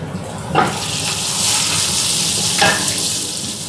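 Loud, hot sizzling from spices hitting oil in a pan, steady crackle with a couple of sharper bursts as the mixture is stirred.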